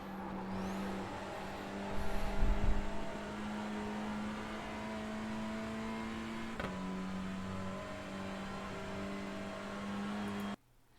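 A TCR race car engine drones steadily through a lap of Bathurst in a racing video game, holding a constant high pitch with a brief louder surge early on before cutting off at the end.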